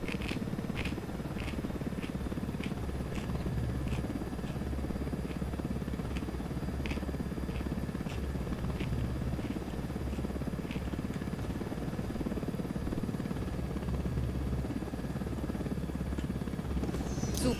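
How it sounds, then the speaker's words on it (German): A helicopter in the video game Ghost Recon Wildlands gives a steady rotor drone throughout, with faint regular ticking chops on top and a constant low engine rumble. "Na, Hauptsache, da ist ein Helikopter."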